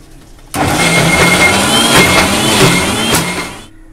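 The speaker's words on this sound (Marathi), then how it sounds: "तर आता हे बारीक वाटून घेते मी।" A mixer grinder whirs loudly, grinding a spice paste with tamarind and kokum for a Konkan-style fish curry; it starts abruptly, runs as a steady roaring motor hum for about three seconds, then stops.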